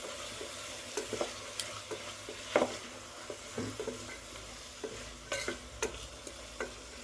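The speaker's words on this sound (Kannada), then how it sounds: "ಸೊ ಚೆನ್ನಾಗಿ ಮಿಕ್ಸ್ ಕೊಡೋಣ" Masala upma mixture with salt sizzles gently in a pressure cooker while a spoon stirs it, producing soft, irregular scraping and tapping clicks over a low, steady frying hiss, fairly quiet and close, no speech.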